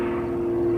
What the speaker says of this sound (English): Endo's flying an extra 300 mid-wing